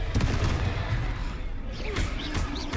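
Confringo fire spell cast during a battle in Hogwarts Legacy, with rapid bursting impacts and crackling blasts over a rumbling low roar, followed by sharp whooshing magic sounds near the end.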